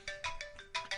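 A phone ringtone blares at full volume in bursts of bright repeating tones with short gaps, close and loud, with no talking over it.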